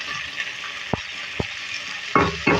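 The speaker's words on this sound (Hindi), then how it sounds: "इसकी फ्राई करेंगे, इसमें प्याज और जो हमने रेड चिली डाला है इसके साथ भुनाई करेंगे इसकी" Half a kilo of beef keema frying in a pan with onion and red chili, giving a steady hiss with a few sharp spatula knocks and louder scraping strokes at the end.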